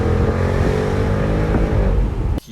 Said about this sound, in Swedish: min favorit är ju motorn, den här V8 som skapar så här otroligt bra ljud